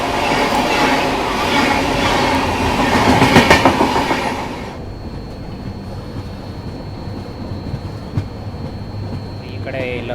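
The Mysuru Kochuveli Express runs past on an Indian railway line, a loud close roar of wheels and carriages that cuts off sharply midway, leaving quieter rail rumble and a faint high whine.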